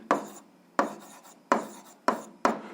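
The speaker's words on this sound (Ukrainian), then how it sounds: "записуємо відповідь, пишемо відповідь" Hand writing out an answer to an eighth-grade algebra equation, heard as five short scratchy strokes in a steady rhythm, close and clear, with no voices.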